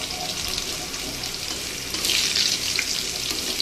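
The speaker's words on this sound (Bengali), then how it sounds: "এই যে চাক চাক করে করলা ভাজি বসিয়েছি" Thick slices of bitter gourd frying in plenty of oil in a home kitchen, a steady hissing sizzle that grows louder and brighter partway through.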